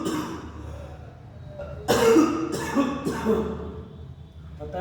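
A short run of three close, harsh coughs from a teacher during a Hindi current affairs class, rising out of quiet room tone and then fading back to it.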